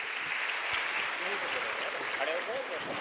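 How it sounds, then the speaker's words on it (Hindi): A crowd applauds to welcome a speaker at a Sanatan religious gathering, a broad continuous clapping wash with a voice speaking faintly beneath it. "एक बार जोरदार तालियों से स्वागत करेंगे।"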